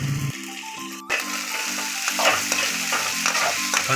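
Green chilies and garlic frying in a pan as onions go in, a dense steady sizzle with a sharp clatter near the start, then rhythmic stirring scrapes, close and fairly loud.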